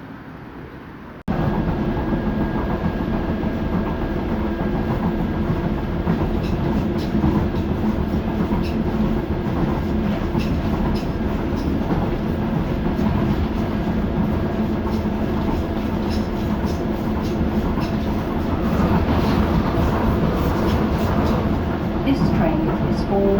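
A steady, loud rumble of an underground train running, with rattling and faint clacking throughout after a sudden rise at the start.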